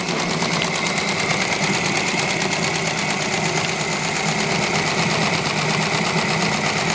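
A restored live steam engine on its first run after recovery, chuffing in a fast, steady mechanical rhythm that stays loud and close throughout.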